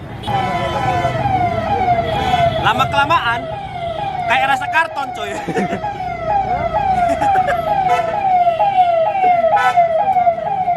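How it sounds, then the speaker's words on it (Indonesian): A passing ambulance siren wails, sweeping up and down repeatedly for the whole stretch, loud and nearby, while people chat casually over it. "Ambulan lagi."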